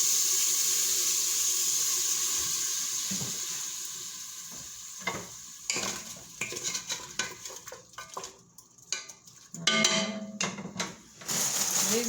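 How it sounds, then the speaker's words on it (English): Water is poured into a pot of hot cooking fat for collard greens, starting as a steady hiss, then breaking into bursts of sizzling, splashing and clatter as it hits the pan. "I'm going to add me about a 1/3 cup of water. Just enough to go across the bottom."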